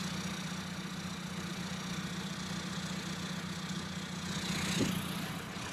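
Suzuki Jimny fitted with a converted PD diesel engine, running steadily at low revs with a continuous, even engine hum and a brief louder swell near the end.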